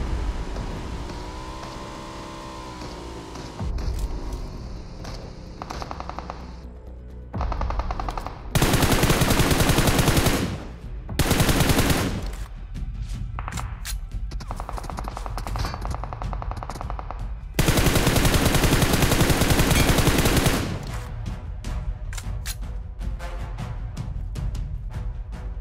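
An M4 Glacier rifle in a shooter game fires in long, loud, close automatic bursts, several sustained volleys separated by quieter stretches of vehicle and ambient game noise.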